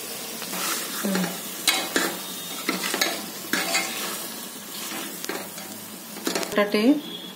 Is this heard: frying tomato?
yes